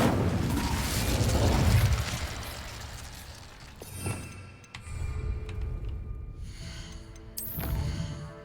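The Incendio fire spell cast in Hogwarts Legacy: a loud whooshing burst that rumbles and fades, followed by sharper pops and crackles and bright magical chimes.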